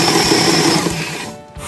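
An electric mixer creaming coconut sugar for gluten-free chocolate cherry breakfast bars, a loud close motor whir that drops away near the end of a short burst.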